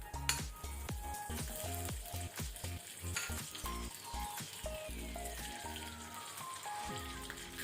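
Two tablespoons of butter melting and sizzling steadily in a pan for a Soya Kheema Pav tempering, with clattering utensil taps and stirring over the continuous frying hiss, no talking.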